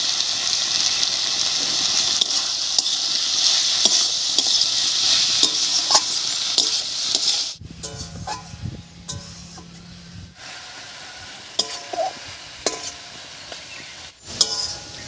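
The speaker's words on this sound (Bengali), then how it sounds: "সব কিছু দিয়ে খুব ভালো করে মিশিয়ে নিয়েছি" Tomato and dried fish curry with salt, chilli powder and turmeric sizzles loudly in a pan as a spoon scrapes and stirs. The frying then drops away to quieter clinks and scattered taps.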